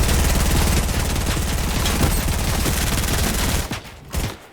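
Dense, continuous Fortnite gunfire, a rapid burst of shots filling the clip before cutting off abruptly near the end, followed by a couple of faint thumps.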